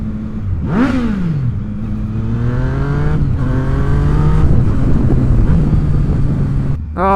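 A vehicle engine with a full exhaust revs hard, rising sharply then holding a loud, steady roar with a climbing pitch, close up with some wind noise across the microphone.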